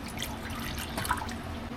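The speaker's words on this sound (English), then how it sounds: "We're going to pour 2 ounces or a quarter cup of water." Water is poured out, two ounces, into a mix for a dog ear cleansing formula, giving a close, light trickling and dripping sound that runs steadily with small splashy bursts, no talk.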